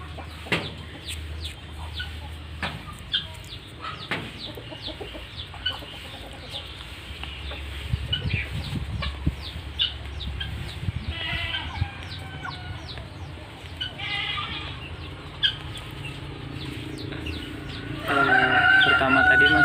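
Guinea fowl (ayam mutiara) calling in a farm enclosure, a run of repeated clucks and sharp cries over a low background hum, some near and some farther off, growing busier toward the end.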